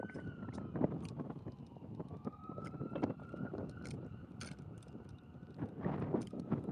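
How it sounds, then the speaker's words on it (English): A faint police siren wails steadily in the distance under gusty wind noise and scattered outdoor clatter, heard on a foggy scooter ride. "Those sirens are going down the street that I was just on."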